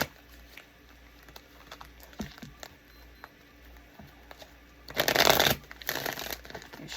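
A tarot deck with some duplicate extra cards is shuffled by hand. After a long stretch of near silence, two short, crisp riffling bursts come close together near the end.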